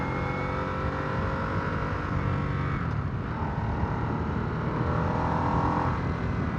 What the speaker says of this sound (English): I'm not fond of the engine note, but that could be because of this exhaust on here.